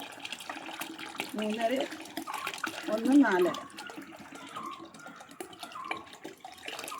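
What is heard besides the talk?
pouring water into a container for homemade toilet cleaner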